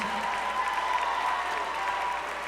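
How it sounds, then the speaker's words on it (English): Steady, dense applause from a theater audience at an SF Sketchfest Revenge of the Nerds tribute, continuous clapping throughout at even loudness. "please continue your thunderous applause"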